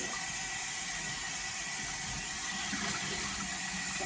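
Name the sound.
water running while rinsing pork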